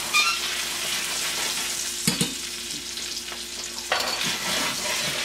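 Salmon fries in butter in a pan, giving a continuous close sizzle with a few soft bumps and scrapes as the pan or fish is shifted.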